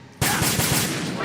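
Rapid burst of gunfire in Metal Gear Solid 2: Sons of Liberty, loud, close shots in quick succession starting abruptly after a brief quiet moment and running without pause, no voices.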